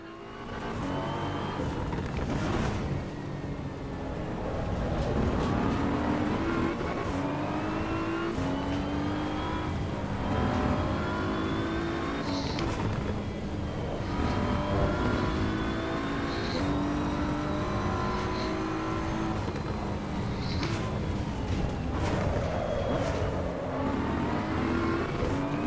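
Race car engine lapping the Nürburgring Nordschleife in Assetto Corsa EVO, a steady loud roar rising and falling through gear changes and revs, continuous for the whole stretch.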